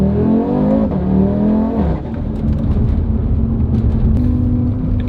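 A tuned Audi RS3 8Y accelerates in a light pull, its engine heard from inside with a rising drone, a brief dip as the gear changes, then a renewed steady climb, loud and continuous.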